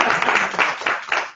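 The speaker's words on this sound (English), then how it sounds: "Let us give a big round of applause." Audience applause at a spiritual class on self-realisation, a burst of clapping from a room of listeners that swells in waves and stays fairly loud throughout, with no talk over it.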